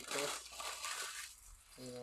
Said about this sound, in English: I'm gonna crumple this up again.